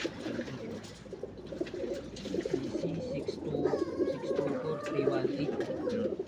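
Pigeons coo continuously in overlapping, throaty phrases, close and fairly steady, with faint voices and other bird calls in the background.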